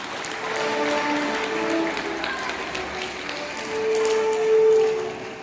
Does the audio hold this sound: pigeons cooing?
no